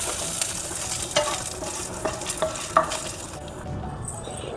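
Food frying in a pan on a stovetop until golden, a steady close sizzle broken by a few sharp spatter pops and soft stirring scrapes, easing toward the end as the heat goes off.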